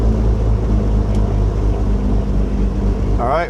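Beechcraft G58 twin piston aircraft engine idling just after start, a loud, steady low rumble close by with a brief voice near the end.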